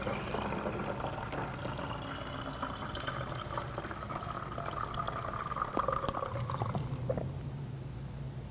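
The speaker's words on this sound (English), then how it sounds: "use the top as a funnel right here to pour all the chemical in here back into the DF96" B&W film developer chemical pours from a film tank through its top used as a funnel into a DF96 bottle, a steady close trickling and splashing stream that cuts off near the end.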